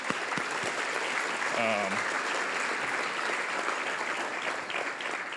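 Audience applause at an accessibility and universal design luncheon event, a sustained wash of clapping from a crowd filling the whole stretch at steady volume.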